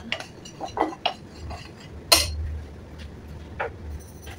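Bowl mixing for a homemade Nutella breakfast crepe batter, with scattered clinks and scrapes of a utensil against the bowl, a few sharp taps and one louder knock midway, and a low background hum.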